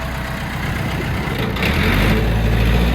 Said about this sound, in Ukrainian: Сьогодні оглянемо Mitsubishi MTX 24, 4-циліндрова, 4х4 на 24 кінських сили.